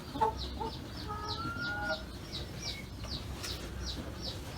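Brahma chickens and a splash-coloured Brahma rooster cluck in a farm coop, a quick run of short, evenly spaced clucks with a brief drawn-out call partway through, moderately close and fairly quiet.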